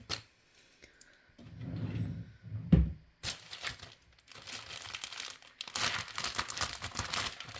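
Crinkling and rustling of a Lego Ninjago magazine's plastic packaging with a few sharp snips of scissors and tears, close up, the rustle growing busier toward the end.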